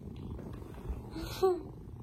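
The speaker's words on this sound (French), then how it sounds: "Il ronronne comme un môme en tout cas." A cat purrs close by in a low, steady rumble, faint and continuous, with a brief soft voice breaking in near the middle.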